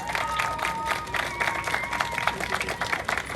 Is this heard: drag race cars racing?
no